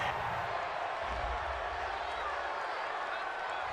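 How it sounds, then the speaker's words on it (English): A stadium crowd in a Madden football video game reacts to a penalty call, with a steady, loud roar of massed voices and some low rumble sustained throughout, without distinct speech. "Well, this crowd does not like that call."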